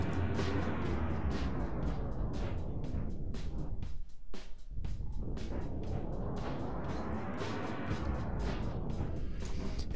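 Dense, washy cathedral reverb from the Airwindows kCathedral5 plugin with continuous derez applied, a steady wide tail of smeared broadband sound that dips briefly near the middle and then swells back, playing alone without voices.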